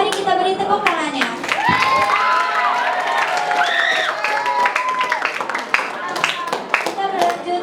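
Applause from an audience at a school student council election debate, loud and sustained clapping mixed with cheering and children's shouts, with voices and some tonal sounds riding over it throughout.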